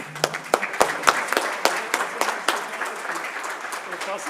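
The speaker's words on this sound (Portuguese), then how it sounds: "peço a vocês que, de pé, façam uma salva de palmas para o Carlos Alberto." A standing audience at a Brazilian business awards ceremony gives a round of applause. A few sharp individual claps come first, then the clapping thickens into a steady, moderately loud ovation that continues to the end, with no talking.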